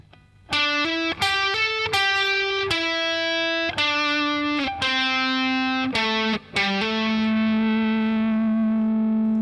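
A distorted electric guitar plays a quick phrase from a guitar solo, picked and slurred notes ending on a long sustained ringing note; no voices.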